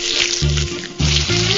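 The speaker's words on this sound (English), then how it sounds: "Ah, the sweet smell of frying bacon." Bacon frying in a pan in the Ballads of Reemus 2 game, a steady loud hiss of sizzling fat with a couple of low bursts as the cooking flares up, no voices.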